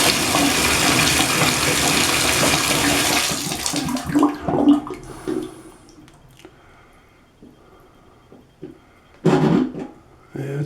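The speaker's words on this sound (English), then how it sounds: "I'm going to turn on the water here and see how this drains." Water rushes loudly and steadily from a bathtub tap for about four seconds, then cuts off, leaving faint gurgles from a slow, clogged drain and a brief splash near the end.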